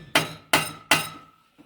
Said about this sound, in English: swinging the hammer